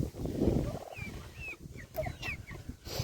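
Chickens clucking near a flock of pedigree turkeys on a farm, short chirping calls over a busy low rumble of scuffling and movement, with a louder close burst at the start.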